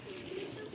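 Young black pigeons give a brief, soft, low coo, faint and close, lasting under a second against a quiet background.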